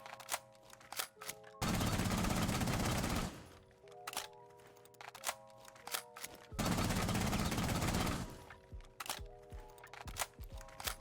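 Gunfire in Rainbow Six Siege: two sustained, loud full-auto bursts of about two seconds each, separated by a few seconds of sparse clicks and small in-game noises.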